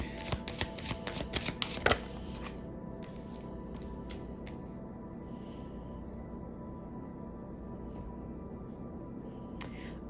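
Tarot cards shuffled by hand, a quick burst of riffling snaps and flutters up close for about two seconds, followed by a few faint card taps in near silence.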